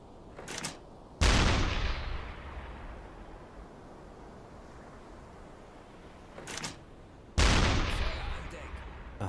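A submarine's deck gun fires armour-piercing shells in the game Uboat: two loud, heavy blasts several seconds apart, each followed by a long rumbling decay, with fainter sharp cracks in between.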